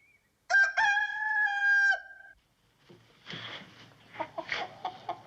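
A chicken, likely a rooster, gives a single loud, drawn-out crow lasting about a second and a half in a comedy-show farmyard scene, followed by softer scuffling and clucking-like rustles.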